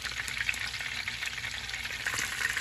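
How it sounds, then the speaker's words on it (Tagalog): A large talakitok fish frying in oil in a pan, giving a steady, dense crackling sizzle with scattered pops, close and continuous throughout. "Mahirap pala magprito kapag medyo malaki itong isda."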